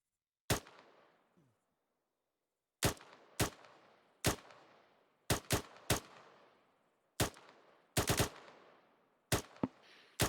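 Rapid gunfire aimed at a bunker in a military training simulation: about a dozen sharp, loud single shots in irregular clusters, some closely paired, each trailing a short echoing decay, with silence between and no talk.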